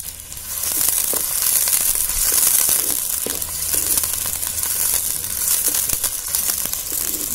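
Onion greens and garlic greens sizzle and crackle steadily in hot oil, cooked for a rustic Maharashtrian Bhogi vegetable dish; the frying is loud and close, continuous throughout with light stirring crinkles and no talk.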